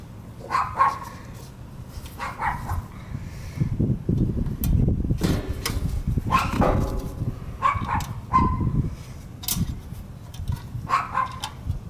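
Several dogs bark in repeated bursts at close range beside an HVAC condenser fan motor job, with sharp yips and woofs coming in clusters over a low steady background hum.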